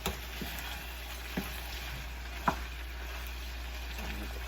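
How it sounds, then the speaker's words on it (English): Bok choy stems stir-fry in a hot pan, a steady low sizzle with a few soft taps and scrapes as they are tossed, with no talk over it. "I'm first putting the stem of the bok choy. This will cook quickly. There you go. So you just keep tossing it."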